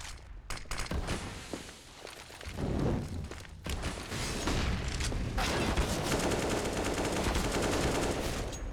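Counter-Strike gunfire on the Overpass map during a professional European semifinal match: scattered shots and bursts at moderate level, with footsteps and mechanical game sounds in a continuous, busy background.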